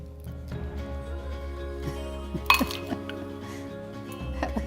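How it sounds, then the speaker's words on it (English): Eggs are cracked into a bowl while baking mini apple crumble tarts, making a few sharp clinks and taps up close over a steady background hum. "Let's crack a couple of eggs into that."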